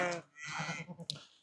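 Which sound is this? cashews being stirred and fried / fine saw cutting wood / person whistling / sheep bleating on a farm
sheep bleating on a farm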